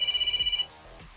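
A mobile phone rings from inside a bag, a steady repeating electronic ringtone pulsing about eight times before cutting off abruptly, leaving quiet room tone.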